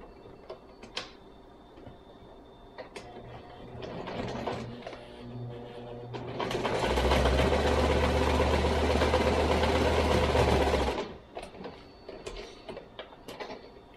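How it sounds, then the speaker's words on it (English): A sewing machine top-stitches along the leg-to-body seam of a stuffed hooved animal, starting with scattered clicks and a brief hum, then running in a steady, close motor whir for about four seconds before stopping amid handling taps. "I'm going to top stitch right along the seam of where we attached the leg to the body piece"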